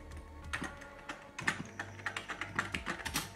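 Rapid clattering keystrokes on an Atari 800 XL computer keyboard, a steady run of close, crisp clicks with no voices.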